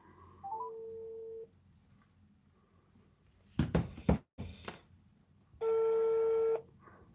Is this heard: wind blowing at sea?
no